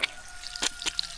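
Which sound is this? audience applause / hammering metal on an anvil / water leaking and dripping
water leaking and dripping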